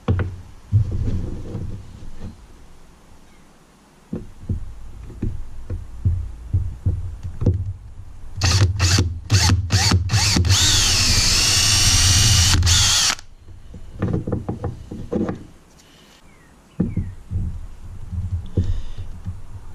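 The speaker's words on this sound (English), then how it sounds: "I'm going to start by pre-drilling a smaller hole" A power drill pre-drilling a hole in plastic whirs in short bursts, then runs steadily for several seconds with a high grinding whine, close by, with clicks and handling noise around it.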